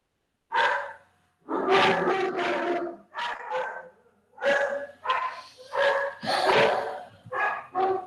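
Pet dogs bark repeatedly and loudly at close range, a string of sharp barks and yips broken by short gaps, with no voices.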